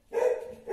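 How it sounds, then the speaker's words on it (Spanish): A single short dog bark, close and moderately loud, sounding briefly indoors with a second yelp-like onset right after, no talk over it. "Perdón por mi perro."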